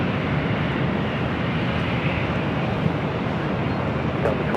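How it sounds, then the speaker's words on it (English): An American Airlines Boeing 777-200ER arriving from London Heathrow at LAX gives a steady, even jet engine roar at moderate distance, continuous throughout. "American Airlines 139 coming in from London Heathrow"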